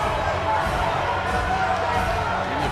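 Video game wrestling crowd in WWE 2K18 cheering loudly and continuously, a dense roar of arena noise with a commentator's voice talking over it.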